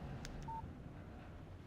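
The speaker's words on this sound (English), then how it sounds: "Text message from Barry." A short electronic beep-tone from a mobile phone text message alert in the video game Alan Wake, two quick chirps followed by a brief clear tone over a faint, low background hum.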